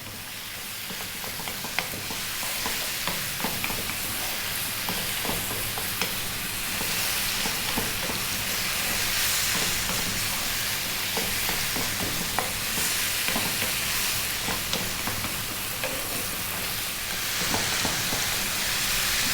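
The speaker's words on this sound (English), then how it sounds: "2 minutes again, stirring all the time on this high heat." Chicken and spices frying over high heat and stirred constantly, a loud continuous sizzle with repeated scraping of the pan throughout, no talking.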